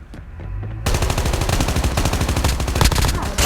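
Rapid automatic gunfire in Call of Duty Mobile: after a quiet start, a loud sustained burst of close rifle shots rattles in a fast, even rhythm until the end.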